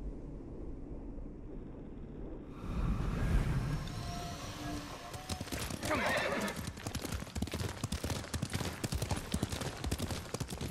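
A horse gallops in the samurai game Ghost of Tsushima, with rapid, steady hoofbeats drumming close by and a neigh near the start. Wind and an ambient score play underneath.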